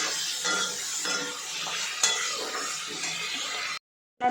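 Potato curry cooks in a pan with a steady sizzle, punctuated by repeated stirring scrapes and light clinks of a utensil on metal, close by and without speech, before the sound cuts abruptly to silence.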